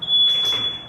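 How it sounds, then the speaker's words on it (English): A shrill, steady smoke alarm tone set off by an air fryer sounds continuously for under a second, loud and close, with faint background noise beneath it. "The fire alarm!"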